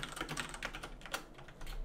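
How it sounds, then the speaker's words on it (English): Rapid, uneven clacking of keys on a mechanical keyboard, fairly faint and close, in quick bursts with no voices over it. "Mechanical keyboard, so good."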